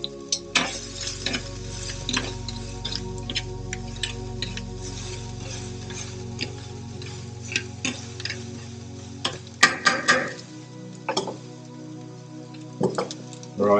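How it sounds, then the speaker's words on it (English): Garlic and ginger sizzle in sesame oil in a pan over a burner, with irregular ticks and scrapes of stirring over a steady hum, growing busier toward the end. "and give it a bit of a stir"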